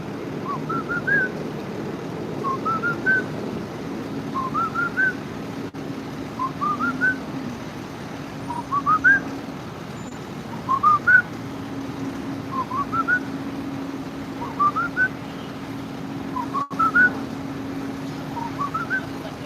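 A person whistles a short rising phrase over and over, about ten repeats at an even pace, over a faint low background hum.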